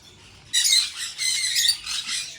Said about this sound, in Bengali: আর এদিকটা রয়েছে প্রচুর পাখি।